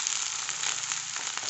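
Pui saag greens dropped into a hot frying pan of browned ingredients hiss with a loud, steady sizzle that holds throughout, close and with no voices over it.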